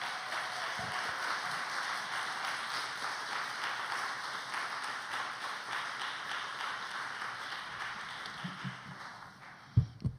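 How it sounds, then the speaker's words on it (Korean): A church congregation applauds in a steady, dense wash of clapping that holds for several seconds and gradually thins, with a few louder individual claps and knocks at the end. "우리 큰 박수로 우리 환호하면서"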